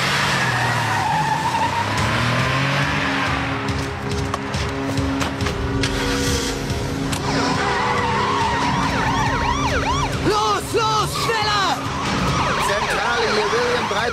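A getaway car speeds off on a street with tyres skidding and a heavy engine roaring, close and loud, before a wailing police siren rises and sweeps repeatedly through the second half.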